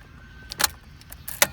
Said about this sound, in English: So I'm going to turn the car all the way off.